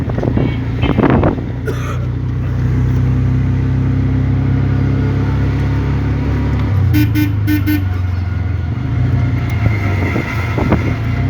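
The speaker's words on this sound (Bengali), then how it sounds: "এই যে গাড়ি এখানে প্রায় গাড়ি দেখা যায়" Car traffic moving through a narrow lane, with steady engine rumble and wind noise throughout and a few short horn toots partway through, no talk.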